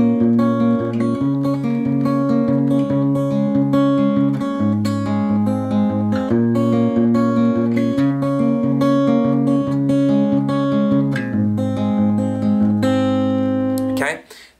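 Pre-chorus chords of a song ring out on guitar, each one sustained and changing every second or so in a steady progression, close and clear with no talking.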